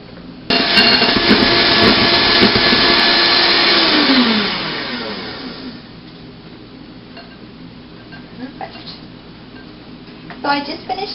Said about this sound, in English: I'll whisk those up to stiff peaks